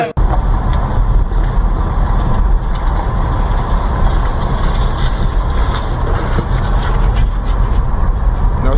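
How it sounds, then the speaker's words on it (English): A car in motion on the streets of Chicago's South Side, with a steady broadband road rumble and engine drone filling the whole stretch, heard from close range without a break and with no clear talk over it. "We're in the car with the camera on the hood."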